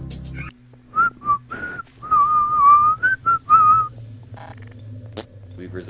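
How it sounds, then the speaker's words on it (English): A person whistling a short tune of several bright notes in a quiet room during a late-night game session, with brief pauses between phrases and no talk. "We've resorted to whistling now?"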